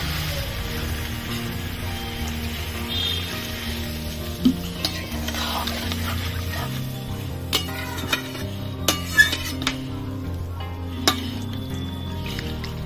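Water goes into fried spice masala in a pan for a vegetarian pui shak chorchori, with a soft low sizzle under the steady stirring and occasional sharp clinks of a utensil against the pan.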